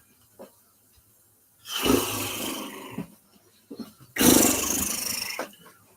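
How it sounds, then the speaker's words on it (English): A dog growls in two long, rumbling bursts separated by quiet, each lasting over a second and fairly close and loud, with faint breathy sounds in the gaps. "He's dealing with his dog."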